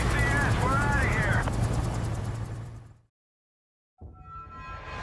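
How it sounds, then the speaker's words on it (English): Helicopter in the Call of Duty Modern Warfare 2 Remastered game, a loud rotor thrum with whining engine tones that fades out, a brief silence, then game sound returning. "There's the chopper."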